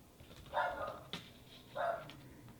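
A pet dog, a female, gives two short, muffled barks spaced about a second apart, fairly close but not loud, over a quiet indoor background.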